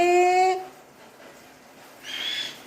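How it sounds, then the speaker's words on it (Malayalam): A pet bird gives a loud, clear tonal call, then goes quiet before a brief, higher chirp follows. "കിളിക്കുട്ടിയെന്ന് വിളിക്കുമ്പോൾ വിളി കേൾക്കും"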